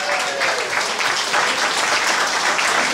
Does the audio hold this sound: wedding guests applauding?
yes